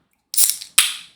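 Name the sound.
can being cracked open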